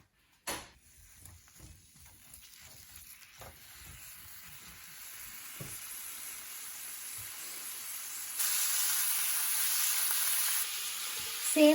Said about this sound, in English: I'm going to saute the red pepper. I've added olive oil. I'm going to saute it.